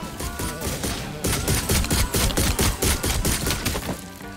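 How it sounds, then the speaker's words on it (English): Rapid, loud shotgun blasts in the zombie survival game Welcome to ParadiZe: a dense volley of close gunfire cracks in quick succession, briefly pausing before resuming in a steady rhythmic barrage. "Fucking shotguns, man."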